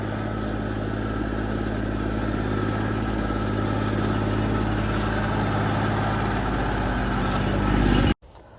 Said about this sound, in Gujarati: હા, આપણું ટ્રેક્ટર છે મેસી